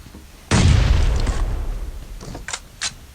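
A bomb explodes in PUBG Mobile, a sudden loud, close boom that rolls off into a decaying rumble, followed by a few sharp pops and bursts of gunfire, with no talk.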